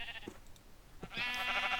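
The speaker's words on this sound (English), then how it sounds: "Yellow sheep." Sheep bleating in the Minecraft video game, a few short, nasal bleats close by, the last one drawn out and louder.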